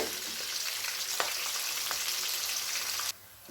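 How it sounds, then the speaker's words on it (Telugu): Onions sizzle in oil in a pan on a medium stove for a meal maker fry, a steady close crackling hiss with a few stirring scrapes before the sizzle suddenly drops to a quieter level near the end. "చూడండి, చక్కగా ఉల్లిపాయ వేగిపోయింది కదండి"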